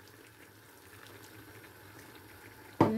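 Banana pepper curry simmers softly with faint bubbling, then water is poured into the pot near the end in a sudden louder splash and gush.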